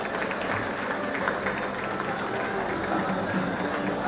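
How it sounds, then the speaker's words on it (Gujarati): An audience in a hall at a centenary celebration claps steadily in honour of a former president, a dense even patter of many hands with a murmur of voices underneath. "ખૂબ સરસ, ખૂબ તાળીઓથી આપણે વધાવી દઈએ."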